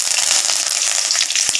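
Curry leaves crackle and hiss in hot oil with mustard seeds, urad dal and cumin, a loud dense continuous sizzle with faint pops, close and steady, and no talking.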